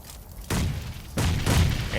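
Grenade blasts and gunfire in a battle royale video game, two sudden booming bursts with crackling tails in quick succession.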